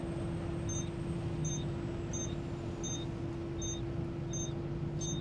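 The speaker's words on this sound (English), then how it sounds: "It's an engine warning alarm." Engine warning alarm on a broken-down delivery truck, a faint, steady series of evenly spaced electronic beeps about once every three-quarters of a second over a constant engine hum and background noise.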